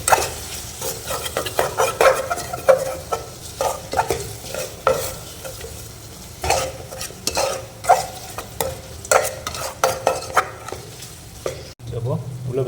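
Green chillies sizzling in hot oil in a pan for a potato kulambu, stirred with a utensil in loud, repeated scraping strokes over a steady fry, close and busy throughout.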